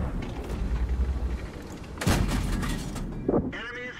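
A tank cannon blast in World of Tanks, one heavy booming shot near the middle over steady engine rumble and battle noise, followed by a short mechanical clank, with a voice briefly speaking.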